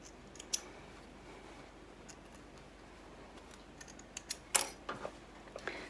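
Scissors snip sewing threads after backtacking a seam, a few quiet, sharp clicks scattered early and then a quicker cluster of cuts near the end, with no talk.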